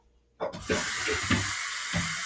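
Running water from a tap splashes steadily into a blender jar after a short quiet start, rinsing out smoothie, a broad hissing rush with a few sloshing bumps.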